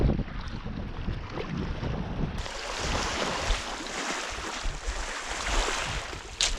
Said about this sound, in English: the maestral, a fierce northwest wind, tears through this channel